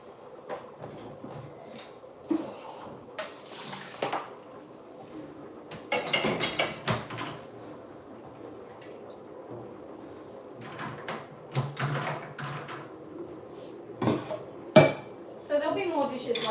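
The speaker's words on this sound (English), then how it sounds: "So there'll be more dishes later, so I'm not going to run it now, I'm just going to stack it" Dishes, cutlery and glasses are stacked into a home kitchen dishwasher, with scattered clinks and clatters, a rack sliding, and quieter stretches in between, close by while a person talks at times.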